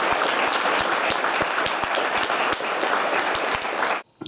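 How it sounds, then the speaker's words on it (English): A gathered audience claps steadily, a dense wash of applause with a few louder nearby hand claps standing out, ending abruptly near the close. "So I want you all to give yourself an applause for being here today"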